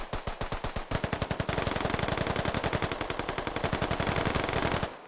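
Rapid pistol fire in a video game shootout rings out loud and close, a steady run of sharp shots that quickens into a dense, nearly continuous volley before cutting off.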